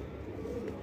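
Pigeons at an Indian pigeon farm coo softly in a brief, low, murmuring burst against steady background noise.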